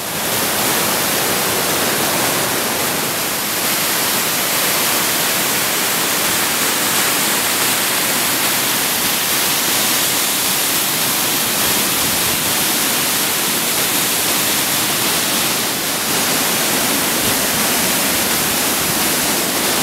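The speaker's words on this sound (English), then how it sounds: "all these little waterfalls are draining from the glacier" A loud, constant rush of glacial meltwater waterfalls at Alaska's Worthington Glacier fills the whole stretch, a dense broadband roar with no pauses and no voices.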